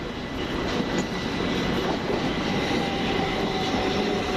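Class 387 electric train passing through East Croydon station, a steady loud broadband rumble and rush of wheels and motors that holds at constant strength throughout, close by, with no talking.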